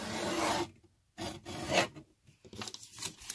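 Rough paper edges on a junk journal made from an altered hardcover book are rubbed away in short, close scratchy rasping strokes, three or four bursts separated by brief pauses.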